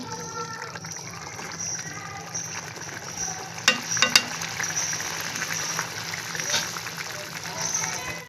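Dahi ilish, a Bengali hilsa fish curry in yogurt gravy, bubbles and sizzles in a pan in a steady low simmer, with a few sharp clinks partway through and a voice speaking over it.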